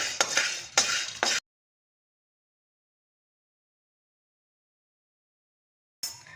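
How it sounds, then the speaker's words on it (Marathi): Chickpeas are stirred in a wok over heat, giving three quick bursts of scraping and rattling, then a long silence before a final brief scrape. "इथं थोडेसे मी हरभरे गरम करून घेणार आहे"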